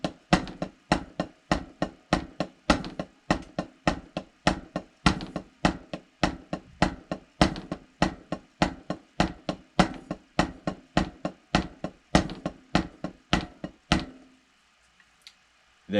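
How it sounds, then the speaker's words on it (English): A snare drum struck steadily on beat two alone as a timing drill, with roughly thirty sharp, evenly spaced hits over about fourteen seconds before stopping; the strikes are close and crisp, with no talking. "So the snare pattern, you're going to do 2 and 4."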